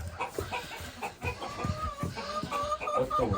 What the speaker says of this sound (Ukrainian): Кажи ко-ко-ко, як курочка робить.